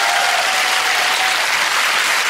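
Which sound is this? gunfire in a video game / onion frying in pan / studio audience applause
studio audience applause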